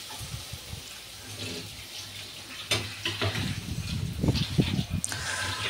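Chopped onion with a little crushed green chilli paste frying in a pan, a soft steady sizzle with stirring scrapes and clatter that grow louder toward the end; no one speaks.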